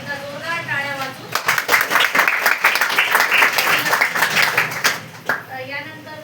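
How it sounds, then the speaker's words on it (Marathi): Loud, sustained applause from an audience honouring a woman teacher at an MS-CIT computer institute event, dense clapping rising after a brief spoken line and fading near the end. "तर त्यांचं पण आपण एकदा जोरदार टाळ्या वाजवू"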